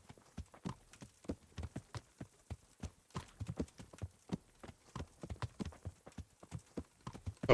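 Steady horse hoofbeats clip-clop at a brisk walking rhythm in the video game KCD, crisp and fairly quiet, with no voices over them.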